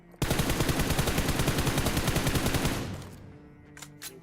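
A long, rapid burst of automatic gunfire in the video game BGMI, loud and close, fades out and is followed by two brief distant shots.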